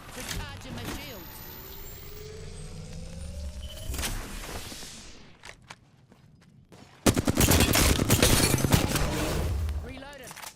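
Gunfire in Apex Legends, with rapid automatic bursts and sharp shots at the start, a brief lull, then a dense loud volley of fire near the end.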